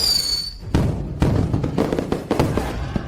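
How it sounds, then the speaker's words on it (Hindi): A signal flare fired into the sky like fireworks, opening with a high whistling shriek, then a string of loud crackling bursts and thuds that keep going to the end. "मेंग मेंग, ये आतिशबाजी नहीं है, ये उनका मदद के लिए बुलाना है।"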